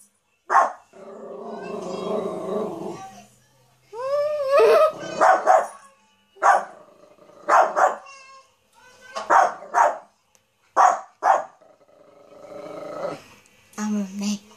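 A Yorkie puppy barks and growls up close in repeated short bursts, with high yips and longer rolling growls separated by brief pauses.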